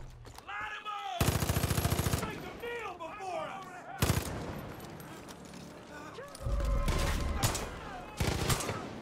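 Slow, spaced gunshots from the Widow Maker gun in Far Cry 5, several sharp bursts, some in quick repeated clusters, mixed with game music and a talking voice.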